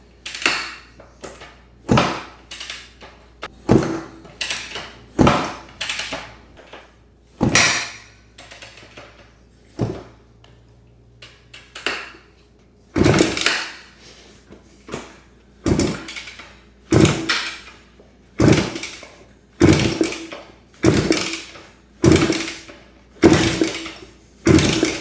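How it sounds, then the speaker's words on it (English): Motorcycle being kicked over repeatedly on a stand with the throttle open during a compression test, a long series of sharp mechanical thumps and clatters about every second, close and loud, with no engine catching. "We're gonna kick it over and see what our compression looks like."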